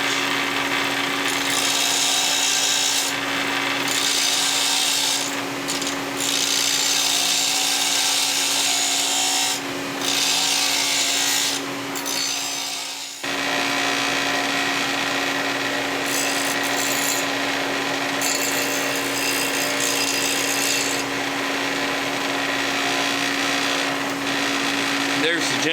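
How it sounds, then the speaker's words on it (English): A steel rifle charging handle for a J.C. Higgins 30 Series .22 semi-auto is ground down with a power grinder, giving a continuous loud whining abrasive rasp with a steady tone, briefly pausing and resuming. "so I grind it down"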